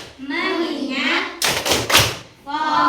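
Students in a classroom do a rhythmic focus clap, a burst of sharp clustered claps and chanting in the middle, with a teacher talking before and after.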